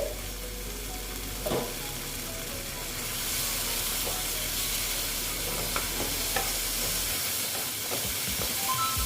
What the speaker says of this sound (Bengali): আবার একটু ঢেকে দিচ্ছি টমেটোগুলো সেদ্ধ হওয়ার জন্য